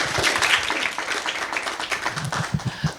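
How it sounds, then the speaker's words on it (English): An audience gives a warm round of applause to welcome panel authors at a library talk, dense continuous clapping that holds steady and stays loud throughout without voices. "Can you all please help me welcome them with a big round of applause?"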